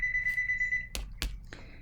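A telephone rings nearby with a steady electronic tone that stops partway, followed by a few sharp knocks or clicks. Nobody speaks.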